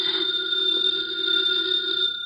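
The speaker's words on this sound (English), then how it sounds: "The phone is ringing. Let it ring." A telephone rings in a steady, continuous electric bell tone, close and loud with no voices over it, set in an old-time radio mystery drama.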